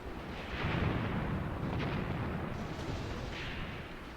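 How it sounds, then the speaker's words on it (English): Sustained rumbling gunfire and heavy blasts from the World War II strategy game Graviteam Tactics, set around Kharkov in 1942, rolling continuously as a loud dense battlefield barrage with scattered sharper cracks. "we're taking heavy machine gun fire now from hidden positions"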